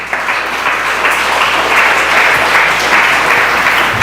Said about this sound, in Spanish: ¿Qué tal si le damos un aplauso a la palabra del Señor?